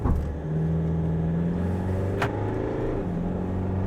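A dual-cab ute pulls hard under acceleration while towing a heavy load, its engine note climbing steadily through the gears as a loud, continuous rumble with a brief click partway through.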